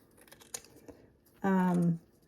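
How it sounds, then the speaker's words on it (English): A pair of scissors makes a few quick, faint snips while finely chopping grass for jumping spider enclosure mats, followed by a brief voice. "I just chop it up really fine with a pair of scissors"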